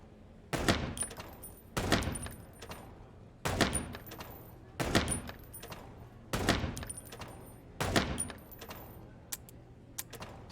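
Gunfire sounds in the video game Chicken Police: about seven sharp, loud shots at a fairly steady pace roughly a second and a half apart, with quiet gaps between them.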